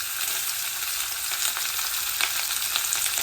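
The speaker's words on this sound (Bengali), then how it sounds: "তেলের ওপরে ওই সবজিগুলো দিয়ে দেবো সব সবজি একবারে দিয়ে দেবো" Boiled mixed vegetables tipped all at once into hot oil and frying in a pan, a loud, steady close sizzle with faint stirring crackles and no voices.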